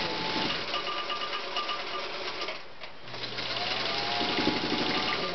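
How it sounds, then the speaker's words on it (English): A sewing machine stitching borders on an embroidered fabric piece runs in a steady, fast mechanical whir, close and loud, pausing briefly near the middle before resuming. "Sewing without having a guide on here."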